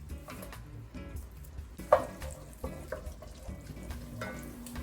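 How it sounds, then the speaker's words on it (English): Minced garlic added to caramelized roasted onions in a pan, giving a soft, fairly quiet sizzle with a few clinks and stirring scrapes, one sharper knock near the middle. "I'm gonna go ahead and throw in minced garlic."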